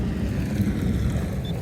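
Strong gusting wind buffets the microphone outdoors at an old homestead site during metal detecting, a loud low rumbling roar filling the whole moment without any voices.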